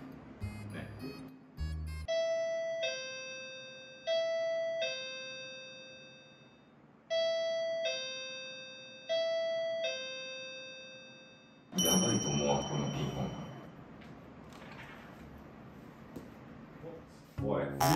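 A two-tone electronic doorbell chime rings four times in a steady repeating pattern indoors, clear and fairly loud, before people start talking.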